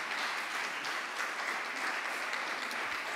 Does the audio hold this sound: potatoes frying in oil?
no